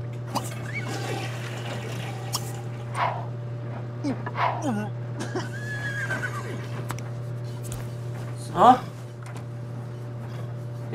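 Horses in The Sims 3 neigh and whinny several times over a steady electronic hum, mixed with soft clip-clop and watery game sounds, with a louder whinny near the end.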